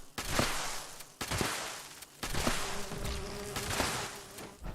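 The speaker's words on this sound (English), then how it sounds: "Bees!" Bees in the game Fallout 76 make a close, loud buzz that comes in several surging bursts with short gaps, one droning tone held under the swells, and nobody speaks.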